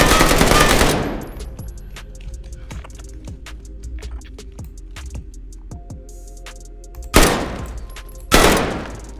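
Loud bursts of automatic gunfire in Call of Duty: Warzone open and close the passage, with sharp metallic clicks and clatters of game weapons in between.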